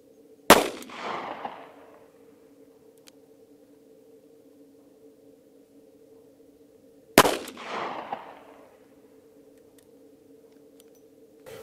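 Revolver firing Federal .38 Special 130gr HST rounds at an outdoor range, two sharp loud shots several seconds apart with a low steady hum between them.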